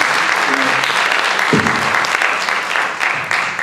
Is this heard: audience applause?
yes